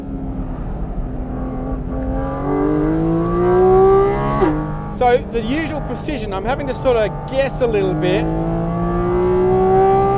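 A 2023 Porsche 718 Cayman GT4 RS engine drones steadily as the car corners fast on a track on regular Pirelli P0 tyres that slide, its pitch climbing through the turn under continuous talk from a man in the cabin.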